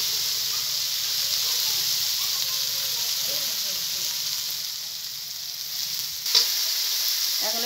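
Cooked-down spice masala sizzling in oil in a pan for a potol and potato curry, a steady close hiss and crackle throughout, with a brief stir-like clatter near the end.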